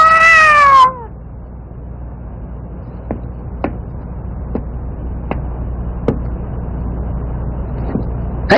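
A cat gives one loud, close, drawn-out meow, followed by a quiet stretch broken by a few soft, evenly spaced taps.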